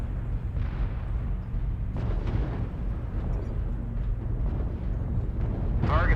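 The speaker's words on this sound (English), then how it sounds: "Warning, incoming missile." Incoming missiles pound a mech in Mechwarrior Online, producing a continuous heavy rumble of explosions and impacts, with bursts swelling at intervals and a sharper blast near the end, all loud and close.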